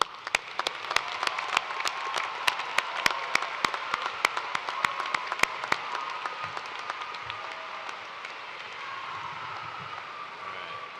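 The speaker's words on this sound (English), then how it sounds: "Round of applause." A graduation ceremony audience applauds at a university commencement, a dense, continuous patter of clapping with sharp, closer individual claps standing out early, then gradually thinning and softening toward the end.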